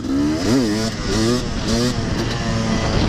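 A KTM 250 two-stroke Six Days dirt bike engine revs loudly up close, its pitch climbing and dropping in repeated throttle blips before settling into a steady buzzing drone.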